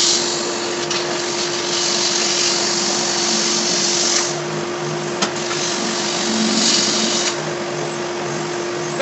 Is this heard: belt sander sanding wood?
yes